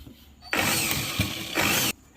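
A sewing machine stitches a petticoat seam, running in a loud, steady mechanical whir for about a second and a half, with a brief change in pace midway, then stopping abruptly.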